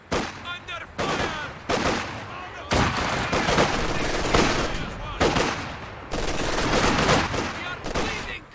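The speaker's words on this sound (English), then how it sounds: "Under fire!" Rapid gunfire and volleys in a Company of Heroes 2 battle on the Soviet campaign, loud and dense bursts nearly continuous over several seconds with brief gaps, mixed with shouted voices.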